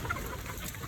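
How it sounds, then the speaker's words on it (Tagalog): Chickens cluck softly in a short burst at feeding time, faint and close, with no talk. "Ngayon ay magpapakain ako sa mga manok."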